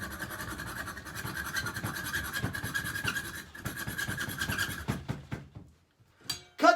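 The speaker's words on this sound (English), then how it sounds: "all we'll need is a little hacksaw" A small hacksaw cuts through a roller skate plate in rapid back-and-forth rasping strokes, close and steady, slowing to a few final strokes before a short pause and a brief clatter.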